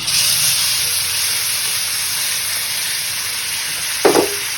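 Spices fry in a pan for a fish-head and cabbage curry, making a steady, close sizzling hiss throughout, with a brief utensil clatter near the end.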